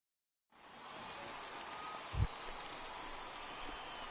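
Soft steady rain in the baseball video game MLB The Show fades in after a brief silence and keeps up a quiet, even hiss, broken once by a low thump, with no commentary over it.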